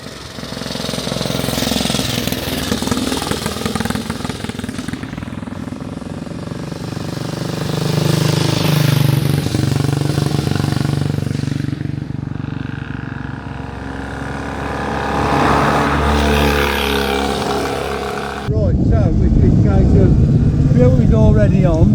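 A 1929 hand-change vintage motorcycle engine runs while being ridden. Its loud, rough exhaust drone rises and falls in pitch as the revs change, ending with a harsher, louder burst near the close.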